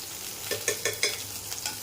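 Chopped onion and slit green chillies frying in hot oil with bay leaf and whole garam masala, a soft sizzle broken by several quick scraping stirs of a spatula.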